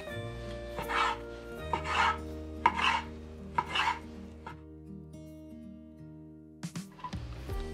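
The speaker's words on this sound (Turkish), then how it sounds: "İnce ince dilimliyorum." A knife cuts thin slices of sucuk sausage on a board, four or five distinct rhythmic slicing strokes about a second apart, close and clear, then a pause and a couple of lighter taps near the end.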